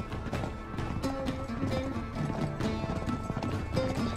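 Hooves pound at a rapid gallop in the video game Uncharted 3, a dense clattering rhythm carrying through with a horse's whinny mixed into the game's ambience.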